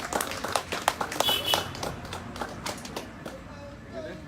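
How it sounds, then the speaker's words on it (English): A live audience applauds to welcome a speaker onto the stage at a political event, scattered clapping of moderate loudness that gradually thins out, with voices mixed in underneath. "Do give him a round of applause, Mr. Philip Edward Alexander."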